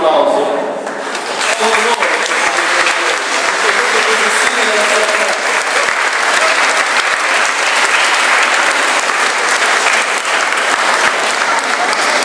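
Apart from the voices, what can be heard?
crowd applauding at a religious procession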